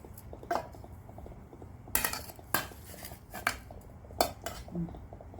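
Metal serving spoons and cutlery clink against steel pots and plates while rice and dishes are served for a home dinner, irregular close clatters over a low room hum.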